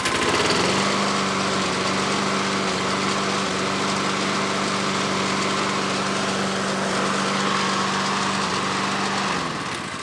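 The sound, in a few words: $30 junk lawnmower engine running after carburetor fix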